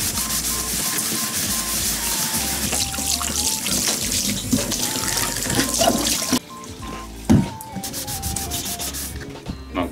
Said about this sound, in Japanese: 水洗い。